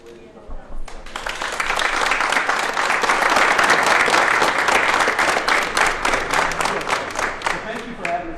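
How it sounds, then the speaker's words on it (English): Employees at a Boeing site in Huntsville applaud the Secretary of War: dense, steady clapping from a large group rises sharply after a moment of quiet, holds loud and full, then thins slightly toward the end. "How about we give the secretary a round of applause, please?"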